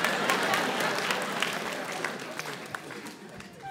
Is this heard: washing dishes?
no